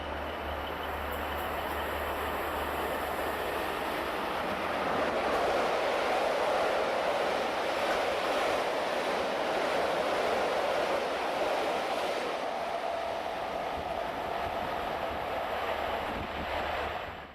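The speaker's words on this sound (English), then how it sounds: "The approaching train does not stop at this station." A train, a Class 86 electric locomotive, rushes steadily through a station at speed without stopping, a loud continuous roar of wheels and rails that swells in the middle and slowly fades.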